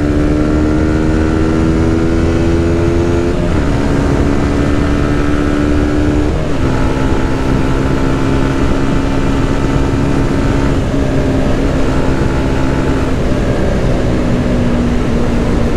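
Honda CBR 125 motorcycle engine accelerating through several gears, a loud continuous buzzing drone rising in pitch, dropping at each shift and climbing again, close to the rider.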